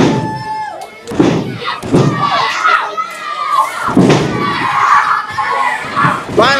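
At a live RPW pro wrestling event, a heavy wrestler slams down onto the ring mat, giving a few dull thuds amid an excited crowd's shouting and an energetic commentator talking over the action.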